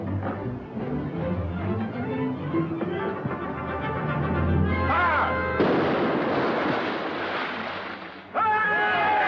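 A sailing warship's cannon fires in a 1945 adventure film, a heavy broadband blast breaking over music, then another burst, with the boom rolling out loudly.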